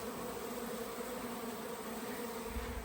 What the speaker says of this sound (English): my garage, there's bees everywhere